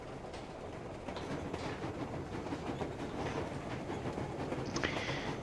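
Train riding in the video game Metro Exodus, with a steady rolling rumble and rhythmic clickety-clack of wheels running continuously throughout, plus a brief higher screech near the end.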